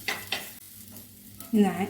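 Ground roasted coconut masala paste sautés in oil for a kingfish curry, with short scraping stirs and a soft sizzle, close and fairly quiet.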